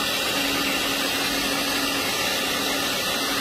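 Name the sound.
electric mixer mixing cake batter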